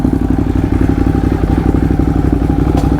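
A Ducati V-twin motorcycle engine runs close by with a loud, steady, throbbing low rumble and a fast pulsing beat throughout.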